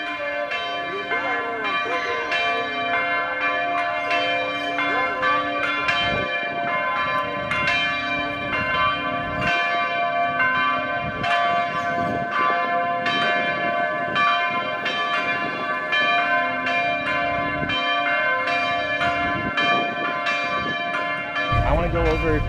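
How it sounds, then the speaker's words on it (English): Church bells of Santa Ana, El Salvador ring out continuously across a park in a layered, clanging peal, strokes overlapping with a sustained metallic hum, loud and steady throughout. "the bells of the church were ringing, and it was just this beautiful sound throughout this park"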